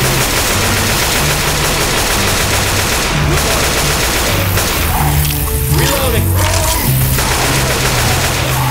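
Gunfire and a grenade blast in the video game Left 4 Dead 2 fill a dense, loud stretch of rapid shots and booms, heard beneath steady game noise and music.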